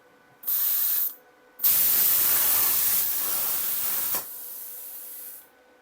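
A plasma cutter cuts sheet metal, a harsh hissing blast in short bursts: a brief spurt, then a longer loud cutting hiss that steps down in level before stopping; no speech.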